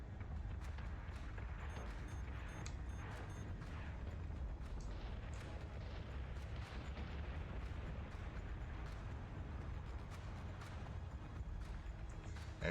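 Dense, continuous space-battle weapons fire and explosions in the turn-based strategy game Battlestar Galactica Deadlock as ships focus fire on a Cylon base star, a steady roaring barrage of booms and bursts with no talk.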